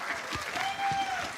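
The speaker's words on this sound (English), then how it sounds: "A round of applause for Middlecott." An audience at an esports tournament final applauds a player named Middlecott, a brief burst of crowd clapping with a faint tonal whine running through it.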